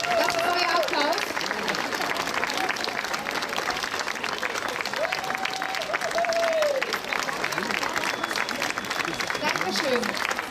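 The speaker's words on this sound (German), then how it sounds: "Das ist euer Applaus." Sustained applause from an audience after a céilí Irish dance performance at an Irish Days festival in Leverkusen, a dense wash of clapping that carries on throughout, with a voice talking intermittently over it.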